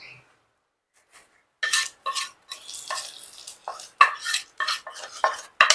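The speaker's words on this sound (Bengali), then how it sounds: "এই ফোড়নটা আমি এই মাছের মধ্যে ঢেলে দেবো" Panch phoron tempering is scraped from a pan and poured over a mrigal fish curry: after near silence comes a series of sharp spoon-on-metal scrapes and clinks with a faint sizzle, close and uneven.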